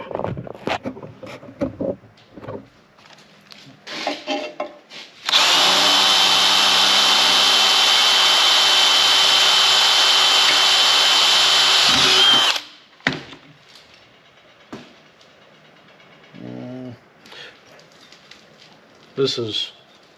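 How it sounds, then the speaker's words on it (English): A power drill whines loudly and steadily for about seven seconds as it bores into a new steel truck frame rail, about 5/16 inch thick, with someone talking before and after. "Unless you're just drilling holes for the fun of it like I'm doing in this video"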